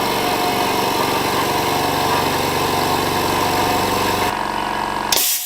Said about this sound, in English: So what I'm going to do now is switch it on.